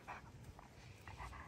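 A dog pants softly nearby in quick, breathy puffs, faint and steady with slight whimpery edges and no talk.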